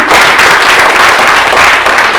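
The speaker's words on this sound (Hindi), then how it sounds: "एक बार उसके लिए जोरदार तालियां हो सकती है" During a live business presentation, the audience applauds loudly, a dense, continuous roar of clapping that stays close and at a constant level throughout.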